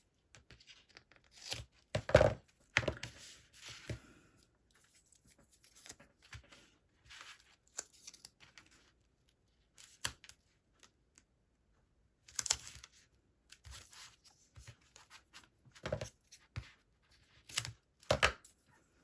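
Adhesive tape torn and pressed down during paper crafting of a mini album, with sparse short ripping and crinkling bursts separated by quiet gaps, close and alone.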